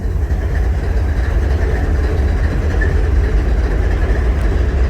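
A westbound freight train rolls past nearby with a loud, steady rumble and low roar, carrying on without a break and without voices.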